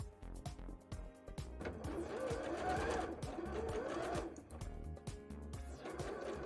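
A sewing machine runs a top stitch on a bra, its needle chattering in a fast steady rhythm close by and rising and easing slightly as it sews.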